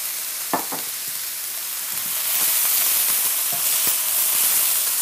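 Seasoned vegetables sizzle steadily in a hot pan for veggie wraps, with a spatula scraping and clicking through the frying every second or so, growing a little louder toward the end.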